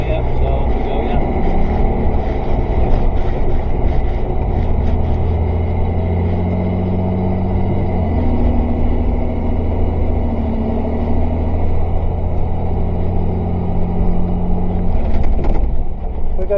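A fire engine drives along the road with a loud, steady low engine rumble and drone, close and continuous throughout.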